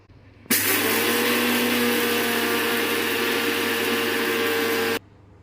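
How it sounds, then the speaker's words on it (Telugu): A mixer grinder jar grinding roasted spices into powder gives a loud, steady motorized whir that starts abruptly, runs continuously for about four and a half seconds, then cuts off sharply, with no talking. "సో ఆ 2 మంచిగా వేగిన తర్వాత మిక్సీ జార్లోకి తీసుకొని దీన్ని పౌడర్గా ఫామ్ చేసుకోవాలండి"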